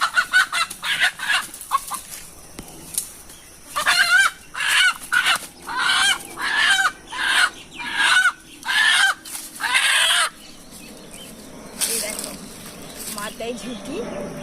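A native desi rooster clucks and crows close by in a run of loud, repeated calls of varying length, with a person talking at times.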